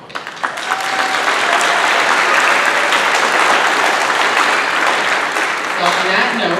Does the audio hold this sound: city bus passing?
no